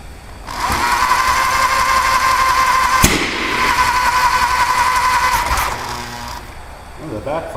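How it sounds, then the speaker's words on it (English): A lawn tractor engine, an LT185, runs with a steady buzzing drone that is broken by one sharp, loud backfire pop, then a fainter second pop before the engine cuts out. A few soft knocks follow at the end. "Oh, the backfire."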